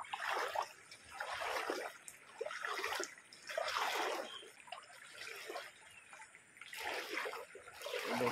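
The Bharja river runs in flood after heavy rain upstream, its rushing water surging and splashing in repeated swells, fairly faint and heard from a distance.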